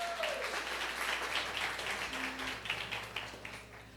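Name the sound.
audience applause in church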